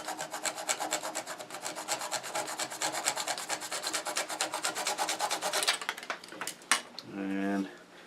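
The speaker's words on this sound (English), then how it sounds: "I'm going to use a flush cut saw to saw that off" A flush cut saw works through cherry burl wood in fast, regular back-and-forth strokes for several seconds, crisp rasping close up, then stops with a few clunks and a voice at the end.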